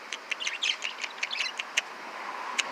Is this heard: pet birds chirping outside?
yes